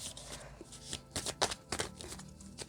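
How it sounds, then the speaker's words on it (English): A deck of oracle cards being shuffled by hand, with quick papery riffles and flutters in short bursts, close and fairly loud. "we'll have to shuffle again because we only need 1"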